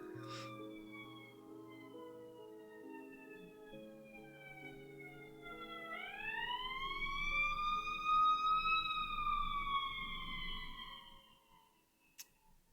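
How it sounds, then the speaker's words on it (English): A distant siren wails, rising and falling in long sweeping tones that swell louder midway before fading, with a faint tick near the end. "I hear a siren."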